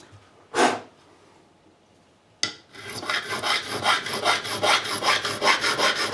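A metal file rasps across the frets of a G&L S-500 guitar during a re-fret, giving one early scrape and then a run of steady, rhythmic back-and-forth strokes close to the microphone.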